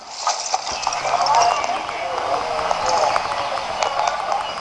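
A horse's hooves clip-clop at a steady gait in the Alexandra Ledermann riding video game, close and fairly loud over a dense background of game ambience.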